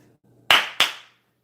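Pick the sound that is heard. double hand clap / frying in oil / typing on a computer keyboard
double hand clap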